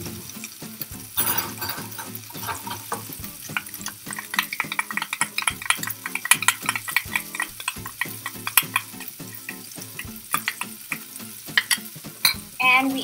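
Butter being stirred into mashed potatoes that still hold some solid pieces, heard as a steady run of close, wet, squelching stirs and scrapes against the pot that continues for a long stretch without talk.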